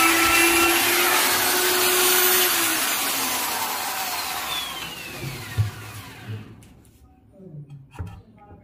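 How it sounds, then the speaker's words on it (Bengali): A small power drill bores a little hole and drives a screw while building a homemade dotara in the style of a ukulele; the loud motor whine runs for a few seconds, then winds down, followed by light handling knocks. "এবার এখানে একটা ছোট্ট করে ফুটো করে স্ক্রু মেরে নেব।"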